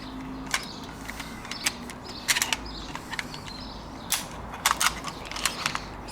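Rope line being fed through an industrial descender on a fire and rescue pumping appliance, heard as a series of sharp mechanical clicks and creaks, some clustered in quick bursts, close and moderately loud over a low hum.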